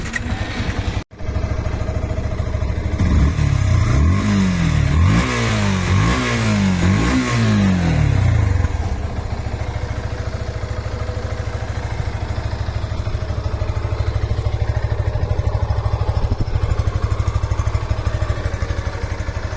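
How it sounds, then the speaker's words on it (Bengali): A 2022 Yamaha FZ version 3 motorcycle engine runs close by with a steady, even idle, broken early by a few quick throttle blips that rise and fall before settling back to a constant hum. "বাইকটা সাউন্ড কন্ডিশন মাসাল্লাহ অনেক ভালো আছে"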